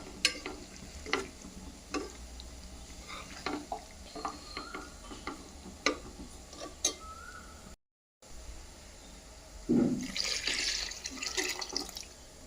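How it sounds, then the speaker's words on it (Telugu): Tamarind juice is poured into a pan of prawn and okra curry and stirred in, with wet splashing, dripping and spoon scrapes, followed by a louder rush of liquid near the end. "ఇప్పుడు మనం ముందుగా రెడీ చేసి పక్కన పెట్టుకున్న చింతపండు రసం వేసుకోవాలి."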